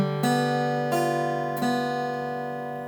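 An acoustic guitar strums one measure of a song, three clean ringing chord strokes spaced evenly, each sustaining and fading into the next, played alone and close.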